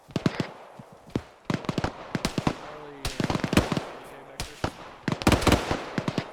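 ArmA 3 platoon training firefight: rapid bursts and single gunshots crack in clusters, some sharp and near, others more distant, while radio-style voices talk.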